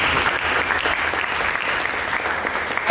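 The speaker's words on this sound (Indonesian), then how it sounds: "Mari kita berikan tepuk tangan." A congregation at a church service applauds together, a dense, loud, continuous wash of clapping throughout.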